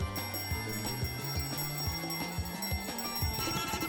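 A small bell carried by the goose in Untitled Goose Game jingles repeatedly, light rapid chimes ringing over busy game music and ambience throughout, steady and moderately close.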